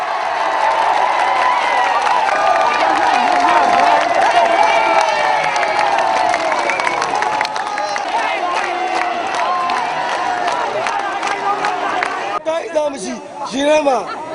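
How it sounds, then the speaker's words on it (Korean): A large street crowd in Myanmar cheers and shouts after election results are announced, a loud, continuous roar of voices with excited yells and some clapping that swells and persists throughout. "거리의 함성은 더욱 커져만 갔다."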